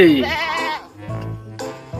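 A goat bleats close by, a loud wavering cry followed by a second, shorter bleat, with no other sounds around it.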